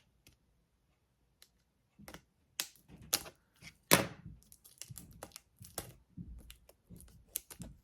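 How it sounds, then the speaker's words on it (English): An X-Acto knife slices and snags at a package, with sharp scattered clicks and scrapes coming in irregular bursts, close and fairly quiet, with no one talking. "I had to get my little X-Acto knife."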